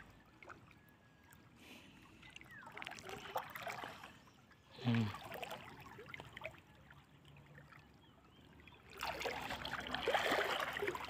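A strong tidal current rushes past a sandy shore at low tide, a steady close watery rush that swells louder in the final seconds, with no voices.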